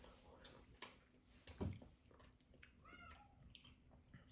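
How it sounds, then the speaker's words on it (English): A household cat meows in the background of a room, brief calls heard faintly alongside chewing and soft handling noises. "Our cat is meowing."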